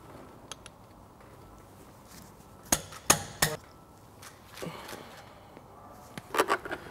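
A hammer strikes a 10mm Allen key to loosen the sump plug under a car gearbox: a few sharp metallic clanks spaced irregularly, with quieter taps and faint background noise.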